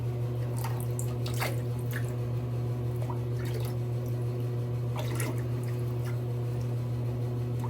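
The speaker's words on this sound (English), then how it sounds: "Actually, get some lather going here." A shaving brush working up lather on artisan shave soap: soft wet squelching and dabbing strokes in irregular bursts, close by, over a steady low background hum.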